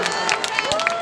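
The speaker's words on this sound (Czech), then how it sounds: "pojďme poděkovat Ondru Palátovi, potlesk Městskomístečkému rodákovi" Crowd applause and cheering from a large gathering at a hockey player's autograph event with the Stanley Cup in Czechia, steady and loud throughout, with a voice calling out over the noise.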